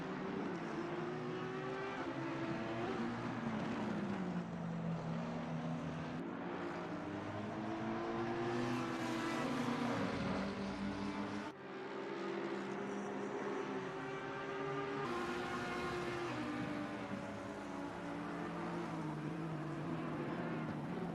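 Several GT3 race car engines in a sim racing game roar continuously together, pitch sweeping down as they brake hard into a corner, then rising again, with a brief dip midway and a commentator's voice faint beneath.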